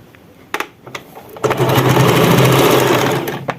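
A sewing machine stitches the corner of a sofa cover, starting after a few handling clicks and running in a loud, steady close-up whir for about two seconds before slowing to a stop.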